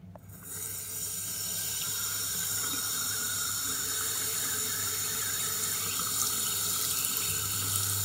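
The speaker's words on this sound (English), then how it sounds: "to demonstrate now, the amount of power pressure that we need coming out the tap to get the boiler on" A household tap runs at full flow to trigger a Potterton Combi 80 Puma boiler, a steady rushing stream into a sink that starts abruptly and continues unbroken, close and without talk.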